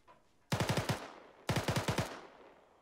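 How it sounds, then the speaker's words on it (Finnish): Two short bursts of machine gun fire aimed at a bunker, each a quick string of five or six sharp, loud shots, separated by about a second of quiet with echoing tails. "Ammu sinne sarjaan"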